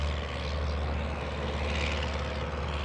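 A propeller airplane engine drones steadily at an airshow comedy Cub act, a continuous moderately distant hum with a low throbbing tone and no talk over it.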